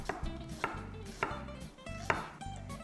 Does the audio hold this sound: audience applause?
no